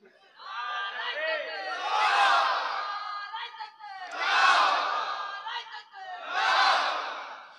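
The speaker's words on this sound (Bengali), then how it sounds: "একটু তাকবীর মারেন তো দেখি" A large religious gathering shouts a takbir chant together in three loud, swelling waves, each rising and then falling away, with a brief pause between them.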